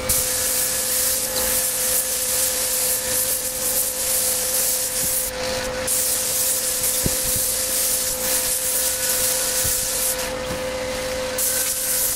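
A spray gun lays 5 Star clear base coats on motorcycle parts during a Yamaha FZR restoration, making a loud, continuous airy hiss with a faint steady hum and brief breaks in the spray.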